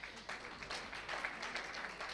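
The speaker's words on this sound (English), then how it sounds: "Can we clap for her, please?" Audience applause at a Tanzania finance panel event, a soft, distant patter of clapping that holds steady throughout, with a few faint voices underneath.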